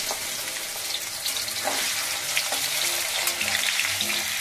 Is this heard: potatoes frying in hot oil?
yes